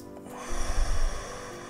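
A single deep, audible breath drawn in and released during a guided relaxation exercise, close and breathy, with a soft hum in the background.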